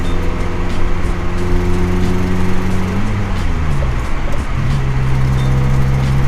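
A 1988 VW Golf Mk2 engine drones loudly from inside the car while it drives, holding a steady hum before the pitch dips and rises again through a gear change.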